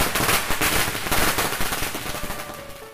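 A rapid string of Diwali firecrackers pops and crackles in an uneven burst in a village after rain, loud and close, fading slightly toward the end.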